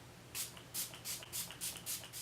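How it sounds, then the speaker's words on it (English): About six quick, soft spritzes from a pump bottle of setting spray onto a face in a steady rhythm, close by in an otherwise quiet room. "just spray it all over my face"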